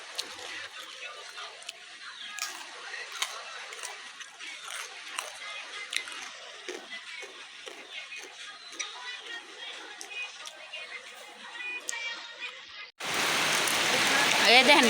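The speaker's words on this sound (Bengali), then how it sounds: "এই দেখেন কেমন বৃষ্টি নামছে।" Heavy rain pours down steadily, a close, dense patter on surfaces that runs throughout, then abruptly surges into a much louder roar near the end.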